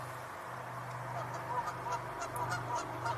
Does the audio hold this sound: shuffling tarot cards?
no